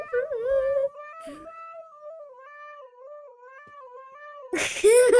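A cat yowls in long, wavering, drawn-out cries, loud and close. A sharper, harsher burst of yowling comes near the end.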